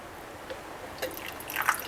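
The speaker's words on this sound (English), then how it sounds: "So I'm just going to pour a little bit out." Freshly brewed Cuban coffee poured in a small splash, giving a few faint drips and soft liquid trickles that cluster near the end of a quiet, still moment.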